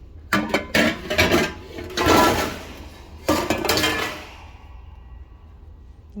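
Metal cooking pots (degchi) in a kitchenware shop clank and clink as they are picked up and handled, several loud close knocks in quick succession, then fading to quiet.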